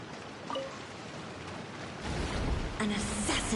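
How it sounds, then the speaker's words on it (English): Steady in-game rain from Genshin Impact patters across the scene, swelling louder partway through, with faint music tones and game effects layered over the continuous hiss. "It always rains when I go on an adventure."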